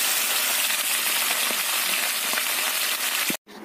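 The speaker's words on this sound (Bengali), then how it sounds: "মাছগুলো ভাজা করে নেব।" Fish coated in salt and turmeric frying in oil in a pan, with a close, steady sizzle and occasional small pops, then a brief cut near the end.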